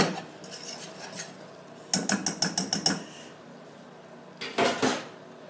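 Caramel stirred in a pot for caramel popcorn, a spoon scraping and clinking against the metal in a quick run of rhythmic strokes, then a second short burst, close and fairly loud over a low background hiss.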